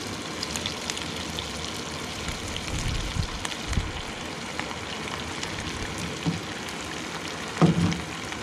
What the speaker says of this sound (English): we'll let it sizzle like that and brown on one side